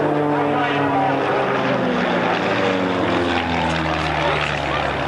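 Propeller aerobatic aircraft flying in formation at an RAF Valley air show on Anglesey, a steady loud droning engine roar with shifting pitch as they climb, sustained throughout.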